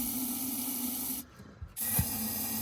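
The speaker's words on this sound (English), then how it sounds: "let's spray a ample amount of penetrating lube down in these cylinders." A close, continuous aerosol spray hiss of penetrating lube into the cylinders of a 1958 Ford F100 engine stops briefly, then resumes with another strong burst.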